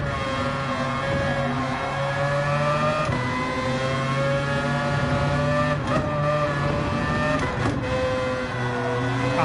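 A race car engine holds full throttle around the Nurburgring in a racing video game, a loud steady high-revving drone with sustained harmonics and only brief dips, with no voices.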